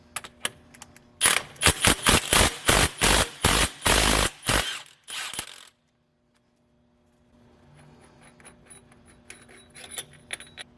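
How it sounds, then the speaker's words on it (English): A ratchet works loose a bolt holding a crankshaft pinning tool on a TorqStorm supercharger install: about a dozen loud, rapid clicking bursts close up, then a pause, then faint metallic ticking and handling noises. "We're going to take the bolt loose and remove the tool and see what she looks like."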